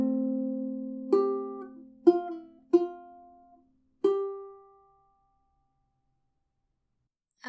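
A ukulele is fingerpicked through a melody from Hamilton: a ringing held note, then four separate plucked notes that each decay, close and quiet, ending in silence with no talking.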